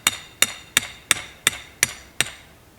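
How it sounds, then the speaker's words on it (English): Seven sharp, evenly spaced hammer strikes ring out close by while building a tiny cabin, each a crisp metallic blow about a third of a second apart. "And then we'll hammer that bad boy in place."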